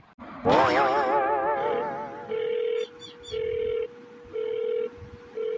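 A phone call rings out: a whooshing swell leads into a steady, repeating ringback tone in evenly spaced bursts, close and clear with no talking.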